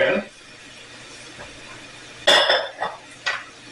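A wooden spoon stirs and scrapes food in a pan while cooking French stuffed vegetables: a few short clattering scrapes close by in the second half, after a brief voice at the start.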